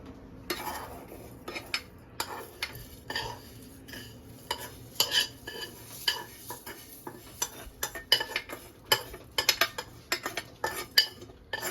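Vermicelli is stirred into milk in a pot, with a metal spoon clinking and scraping against the pot in irregular bursts over a soft background simmer, fairly close, and no talking.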